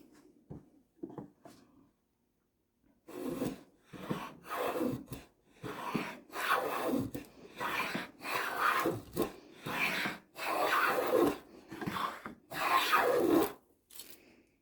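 A hand plane fitted with a reproduction Record 043 cutter takes wood shavings, giving a run of repeated rasping strokes in an even rhythm, close and fairly loud, after a few light taps, with no talking.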